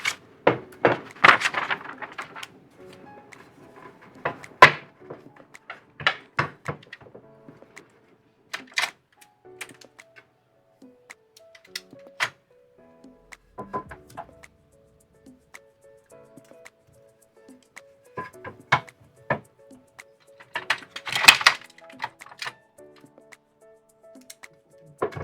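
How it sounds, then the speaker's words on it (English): Tape is pulled and pressed around a sublimation print blank, producing scattered sharp ripping and tapping bursts separated by quiet gaps over a long stretch, with brief faint voices in the background. "All right, so we're taping now."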